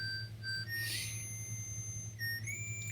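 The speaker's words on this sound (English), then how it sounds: "this is the big reveal that this whistle, it's Proto Man" Proto Man's whistle from the video game Mega Man 3, a thin high-pitched tonal melody of sustained and stepping notes over a steady low hum, loud and clear with no voices.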